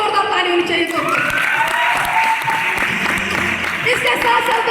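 Applause from an audience at a Smart Value success-story gathering, steady and fairly loud throughout, with a voice or background music faintly running underneath.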